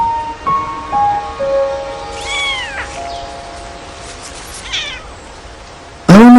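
Kittens meowing close by, several high, rising and falling mews overlapping and trailing off, followed by a sudden loud cry at the end.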